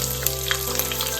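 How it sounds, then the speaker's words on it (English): Green chilies sizzling in hot oil in a pan, a steady, close frying hiss that holds for a moment and then cuts off. "Add the green chilies,"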